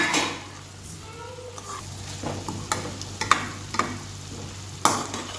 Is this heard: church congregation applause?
no